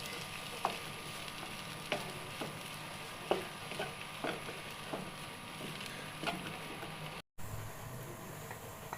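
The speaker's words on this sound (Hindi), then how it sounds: "अब इसको अच्छी तरीके से मिक्सअप कर लेंगे" Mince filling for kachori being stirred and mixed in a pan, a soft continuous sizzle with scraping strokes of the spoon at a slow, irregular rhythm, close and fairly quiet.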